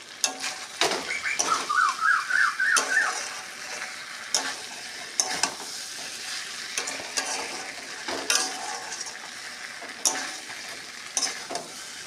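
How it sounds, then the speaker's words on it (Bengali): Jackfruit curry with potatoes is stir-fried in a pan, a moderate sizzle broken by repeated sharp scrapes and clinks of stirring, with a few faint chirps in the background and no talking. "এবারে আলুগুলো দিয়ে আরও ভালো করে কষাবো"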